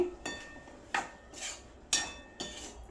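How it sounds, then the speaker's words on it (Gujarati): Metal spoon scraping and clinking in a pan, five distinct strikes in a steady rhythm, as spices are stirred into a vegetable curry, close and clear with no talk. "હવે બધા મસાલાને આપણે હલાવી દેવાનું છે"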